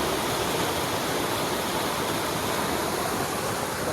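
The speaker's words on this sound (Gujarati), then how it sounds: "આ હજી પાણી જાય છે બે કલાક પહેલાંનો વરસાદ છે" Steady, rushing floodwater from heavy rain flows continuously and loudly nearby, a broad unbroken roar with no voices.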